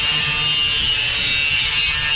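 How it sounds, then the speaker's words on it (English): An angle grinder grinds down the sharp cut edge of a metal barrel, a loud, continuous, close abrasive whine and rasp with no talk. "So then you just take your angle grinder,"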